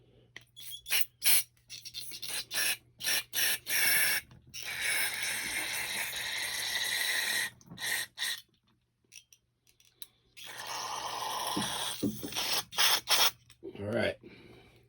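A push mower carburetor gets short and longer blasts of aerosol cleaner into its holes, loud close hissing broken by quick clicks and clattering handling noises.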